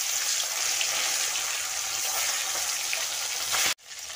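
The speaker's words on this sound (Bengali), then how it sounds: "মাছটা মাখিয়ে ওই তেলের মধ্যে দিয়ে দিচ্ছি কড়াতে" Turmeric-coated fish frying in hot oil in a wok, a dense continuous sizzle close by that cuts off abruptly near the end, then resumes more quietly, with no talking.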